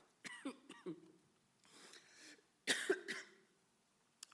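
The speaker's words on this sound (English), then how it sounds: "I am on the backside of a cold and still have my cough." A man recovering from a cold coughs several times in short, raspy bursts, clears his throat in between and ends with a harder double cough, close and fairly quiet.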